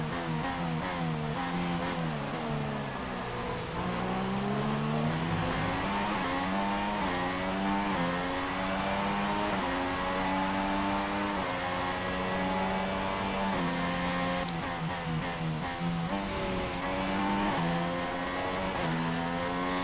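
A Formula 1 car engine in the F1 2016 racing game at the Bahrain Grand Prix screams steadily under acceleration, its pitch sweeping up and down through gear changes, loud and continuous with no talk over it.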